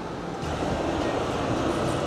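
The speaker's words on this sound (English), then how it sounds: "The tram's coming at the same time." A tram on a city street approaches as a steady broadband rumble and hiss, growing slightly louder and holding constant, with no clear voices.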